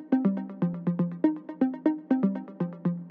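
Short synth plucks built in Pigments from sine and triangle waves for progressive house, repeating in a steady, evenly spaced pattern of bright, quickly decaying notes over a low sustained tone, with no voices.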